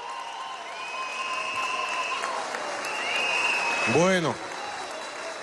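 Crowd at a Venezuelan government meeting with oil workers applauding Cilia Flores, a steady, moderately loud wash of clapping with a sweeping electronic tone and a brief spoken word near the end.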